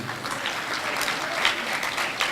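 Audience applause fills a school performing-arts event honouring parents, a steady dense clapping that holds evenly throughout with a few louder bursts.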